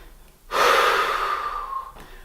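A single loud, close breath rushes out steadily for about a second and a half during an ab-tightening exercise, with no talking.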